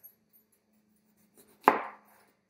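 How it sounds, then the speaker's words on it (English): A knife chops once through a fresh backyard lemon on a kitchen counter, one crisp close cut with a short soft crunch after a few faint taps. "I got some fresh lemons from my backyard. I'm just going to cut this"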